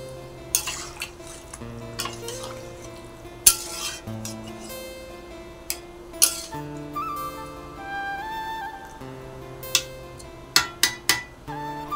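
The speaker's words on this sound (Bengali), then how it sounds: "ভাতটা ভালো করে নাড়াচাড়া করে দিলাম" Rice boiling in a pot being stirred with a metal utensil, giving repeated sharp clinks and scrapes with ringing metallic tones at an uneven pace, close by, with no talking.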